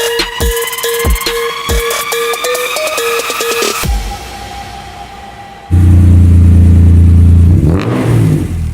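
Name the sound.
1993 Acura NSX engine revving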